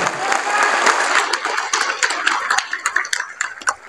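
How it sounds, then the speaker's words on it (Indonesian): A crowd at a Gerindra party political rally applauds a candidate, dense continuous clapping that is fairly loud and thins toward the end, with some crowd noise mixed in. "Kita tepuk tangan"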